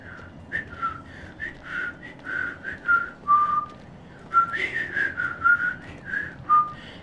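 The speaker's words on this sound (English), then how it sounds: "If only I knew how to actually whistle." A person whistles a lively tune, a series of clear bright notes in quick phrases with short pauses between them, close and fairly loud with no talking.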